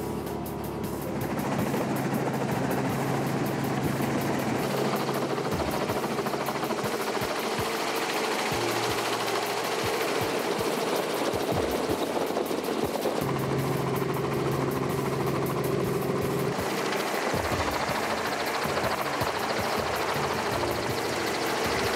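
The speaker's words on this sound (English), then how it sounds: "So he and Mike got on the helicopter, who was actually going to dart some oryx species." A helicopter used for darting oryx in South Africa drones and chops loudly and continuously, its rotor beat and engine whine filling the air, with the pitch and level shifting as it maneuvers.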